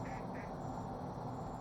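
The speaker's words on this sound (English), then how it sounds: "What you quacking at?" A duck quacking at a lakeside, two short nasal quacks close together at the start over a steady background hum, fairly faint and alone with no talking.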